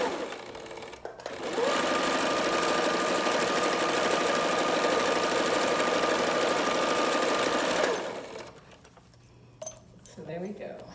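A sewing machine stitches a cloth face mask in a steady, fast mechanical whir that holds for about six seconds, then stops, with quiet handling sounds before and after.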